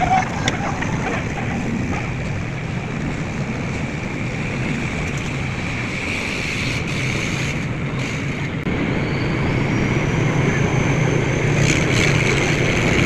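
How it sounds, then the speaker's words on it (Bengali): Two passenger launches race side by side on a river in Bangladesh, passing under the Muktarpur bridge. Their steady engine drone and the rush of water carry through the whole stretch, with a brief dip partway. "দুইটা লঞ্চ এখন মুক্তাপুর সেতুর নিচ দিয়ে যাবে।"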